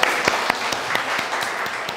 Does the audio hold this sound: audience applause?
yes